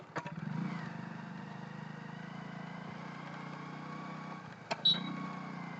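A motorcycle on a city road shifts up through its gears, its fairly faint engine holding a steady drone with a couple of brief surges near the end.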